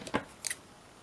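Scissors cutting around a paper page, two brief, close snips of paper a moment apart with quiet in between.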